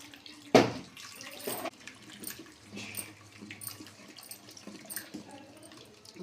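Water poured into a pot while cooking dal with fresh pigeon peas, a sharp splash at the start followed by softer, intermittent trickling and pouring sounds nearby.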